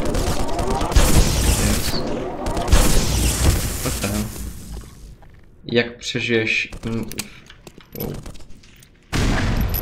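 Bursts of rapid gunfire and heavy booms from the video game Black Mesa come in clusters with short gaps, while someone talks over and between the shots.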